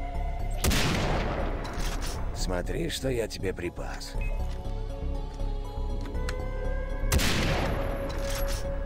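Gunfire in the video game Far Cry 3 Blood Dragon: two loud blasts open and close the stretch, with busy game effects between them and someone talking over the action.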